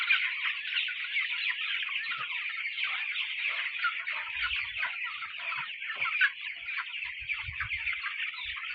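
A flock of broiler chickens on a shaded farm clucks continuously, a dense, busy chorus of overlapping calls heard close and alone.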